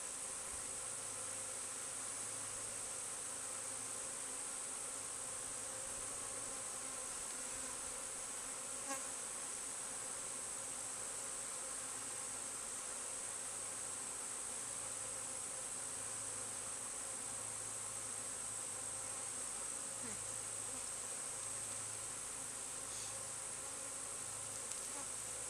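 A honeybee swarm being captured outdoors on a hillside fills the air with a dense, steady buzzing of many bees, continuous and fairly loud throughout with no talking.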